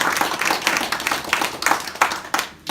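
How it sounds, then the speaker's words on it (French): Audience at a New Year greetings speech in Stains claps in a rhythmic, pulsing burst of applause, fairly loud and close, tapering off at the end. "je pense qu'on peut vous applaudir."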